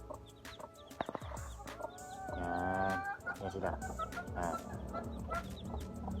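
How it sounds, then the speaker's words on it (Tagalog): High, thin peeping of newly hatched chicks, several quick cheeps close by, with a person speaking briefly and other backyard chickens clucking in the background. "Ito yung mga bagong silang na mga chicken."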